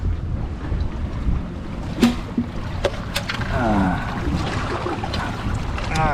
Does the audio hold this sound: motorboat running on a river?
yes